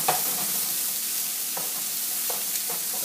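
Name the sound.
marsala chicken with mushrooms, onions, garlic sizzling in pan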